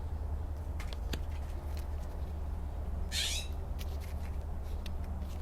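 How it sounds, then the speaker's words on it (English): A single bright, rising bird call cuts through steady low background noise about midway, with a few faint clicks scattered around it. "The bird chirping, right?"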